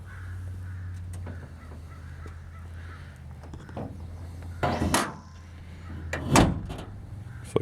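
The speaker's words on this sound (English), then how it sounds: "we're going to let the owner shut the hood so he can show you how he shuts it and how easy it shuts" The hood of a 1955 Chevy 210 resto-mod with a 427 engine is lowered and shut, ending in a firm metallic slam, followed by a second clunk, over a steady low engine idle nearby.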